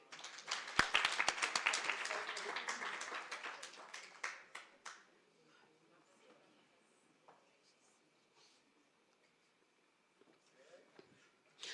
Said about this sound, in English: can we please clap hands for them?